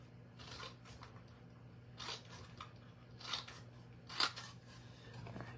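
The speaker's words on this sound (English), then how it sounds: "I'm going to cut this out." Scissors snip through paper during a mixed-media crafting session, a few soft separate cuts spaced apart and faint against a quiet background hum.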